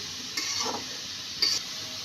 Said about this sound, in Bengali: এবার আমি এতে 1/2 চামচ হলুদের গুঁড়ো কালারের জন্য দিয়ে ভালোভাবে একটু নেড়েচেড়ে নিচ্ছি।